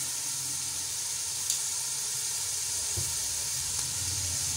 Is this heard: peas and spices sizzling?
yes